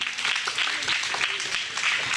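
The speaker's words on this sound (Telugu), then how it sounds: "ఒకసారి వారందరికీ కూడా చప్పట్లు కొట్టి ప్రభునామాన్ని కనపరుద్దాం" An audience at a church prayer gathering claps after a short skit, a dense continuous patter of many hands that runs on steadily throughout.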